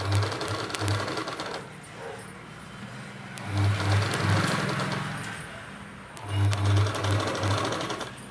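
A sewing machine runs in three loud bursts of rapid mechanical stitching while a dress collar is top-stitched, with quieter pauses between the runs.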